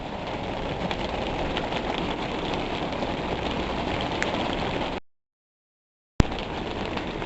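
Half-inch hail drums on an RV roof in a steady, close patter, cut by a brief silent gap before the hammering resumes.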